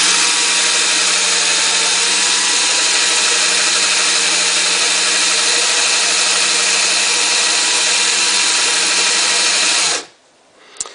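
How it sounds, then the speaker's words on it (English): An electric drill whirs steadily, spinning a brass cartridge case pressed against steel wool. The loud, even grinding hum runs for about ten seconds, then cuts off abruptly. "I'll just put it on the outside of the brass, and I'll turn the drill on"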